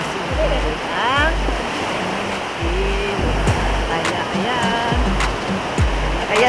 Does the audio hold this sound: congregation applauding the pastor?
no